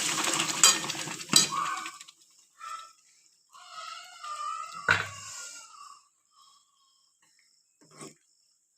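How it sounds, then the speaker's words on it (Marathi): Minced keema with eggs and spices is stirred in a pan: scattered metallic clinks and scrapes of a spoon against the pan come in short bursts, with quiet gaps between them. "चांगले याला मिक्स करू एकत्र. एकजीव व्हायला पाहिजे सर्व मसाले, अंडे आणि खिमा."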